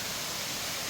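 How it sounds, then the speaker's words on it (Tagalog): Rushing water pours steadily at a waterfall area, a dense broadband roar that stays constant and fairly quiet throughout, with no voices over it. "Ang ingay lang ng tubig na umaagos"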